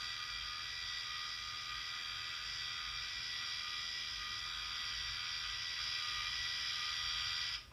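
A Zemismart smart WiFi blind motor runs continuously for several seconds as it lowers a window blind, giving a steady, faint mechanical whir with a fine ratcheting texture and no voices.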